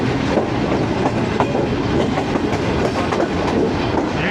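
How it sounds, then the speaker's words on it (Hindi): A train rolls into the station yard at Gujranwala. The rumble is steady and dense, with faint clickety-clack from the wheels over the rails and no speech. "गुजरांवाला के यार्ड में दाखिल हो चुकी है"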